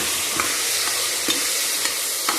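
Potatoes get stirred in a hot frying pan, a loud constant sizzle broken by rhythmic scraping strokes of a spoon roughly every half second.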